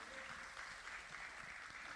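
A church congregation at a Sunday service applauds, a steady dense wash of many hands clapping together, moderately distant and continuous throughout the short stretch.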